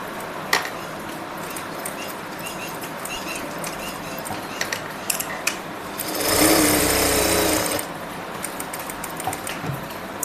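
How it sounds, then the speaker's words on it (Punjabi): Sewing machine stitching a pocket onto a ladies' kurti, a steady whirring run of a few seconds in the middle over a background of small handling clicks. "ਇੱਥੋਂ ਸਲਾਈ ਆਪਾਂ ਨੇ ਸ਼ੁਰੂ ਕਰਨੀ ਹੈ"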